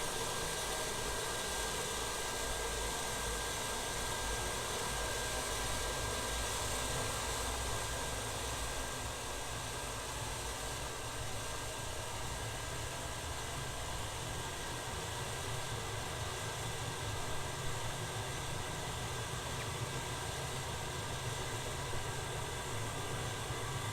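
Ka-50 helicopter's second engine starting up during a cold start, a steady, loud broadband roar and whine with low rumble that holds constant throughout.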